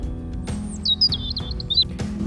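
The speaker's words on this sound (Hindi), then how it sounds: "सिर्फ पक्षियों की आवाज सुनाई दे रही थी" Small birds chirp and tweet in short bright bursts over quiet low background hum during India's COVID-19 lockdown, several quick calls clustered in the middle.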